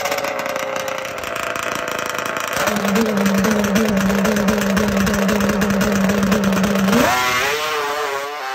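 Two-stroke drag racing motorcycle on a quarter-mile track, its high buzzing engine wailing steadily then rising sharply as the rider blips on and off the throttle, fairly loud and unaccompanied by talk.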